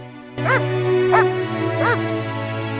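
A dog in The Witcher video game gives three short whining barks about a second apart over a steady humming background, nobody speaking.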